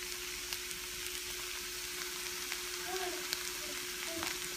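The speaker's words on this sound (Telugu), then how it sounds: "ఆనియన్స్ ఫ్రై అవుతున్నాయి కదా" Onions frying with turmeric and curry leaves in a pan for onion curry, giving a steady, soft sizzle heard alone with faint stirring ticks.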